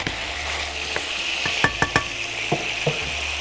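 Chopped onions tipped onto browning meat in a hot pot give a steady sizzle with a few sharp clanks and scrapes of a spoon stirring through it, and no one speaks.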